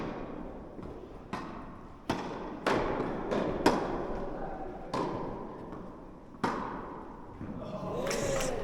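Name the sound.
tennis ball hits in a rally ending with a volley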